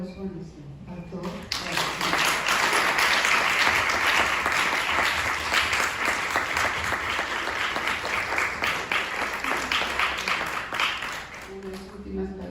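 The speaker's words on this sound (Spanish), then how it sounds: "le podemos dar un caluroso aplauso a nuestro autor." Warm audience applause for an author at a book presentation of a mystery story, a dense, steady wash of many hands clapping that lasts about ten seconds between stretches of talk, moderately close.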